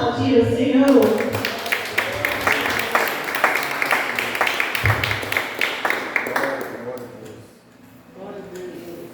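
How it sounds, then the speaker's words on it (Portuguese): A church congregation at a Sunday worship service claps in a steady rhythmic beat after a voice speaks at the start. The sharp claps repeat evenly for several seconds before fading near the end. "Você pode aplaudir o Senhor?"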